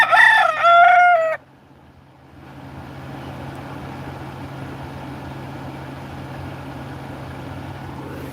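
A rooster crows once, loud and close, among backyard chickens, then stops abruptly. A low, steady hum continues alone afterward.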